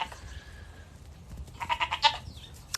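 Goats from a herd of over 250 kept for contract grazing bleat in a short cluster of calls near the end, fairly close over low background rumble.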